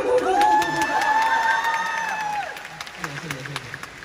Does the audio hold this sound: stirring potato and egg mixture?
no